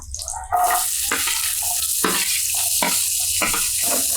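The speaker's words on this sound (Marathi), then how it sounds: "तेल तापलंय आता त्यामध्ये घालूया कांदा" Chopped onion dropped into hot oil in a home kitchen pan while making egg korma, starting with a sudden loud hiss that settles into steady crackling sizzle.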